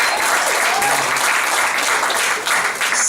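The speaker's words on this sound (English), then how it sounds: "give yourselves a round of applause for being here" A stand-up comedy crowd applauds itself for showing up, loud, close and continuous clapping from many hands, sustained at an even level with no voices over it.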